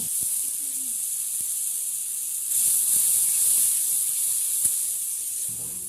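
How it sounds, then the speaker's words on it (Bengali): Water poured into a pan of frying onions for a snakehead fish curry gives a loud, steady hiss of steam and sizzle that rises briefly midway, with a few faint utensil knocks and no talk. "পেঁয়াজ ভাজা ভাজা হয়ে গেছে, দিয়ে দিলাম একটু সামান্য জল।"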